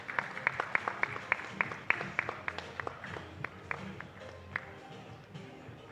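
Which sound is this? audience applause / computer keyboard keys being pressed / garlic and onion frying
audience applause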